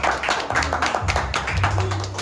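A church congregation claps together for a member, a dense burst of hand claps with tapping beats that fills the whole moment without speech.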